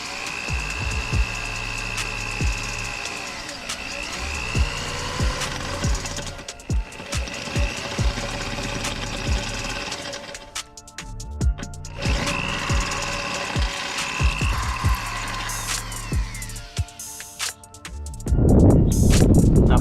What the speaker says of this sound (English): I'm gonna have to drill a mounting spot for this thing right there